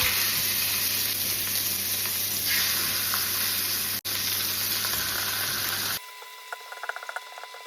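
Minced pork dropped into olive oil in a heavily stained pan gives a loud, steady frying sizzle for about six seconds, then cuts to quieter crackling and spitting for the final stretch.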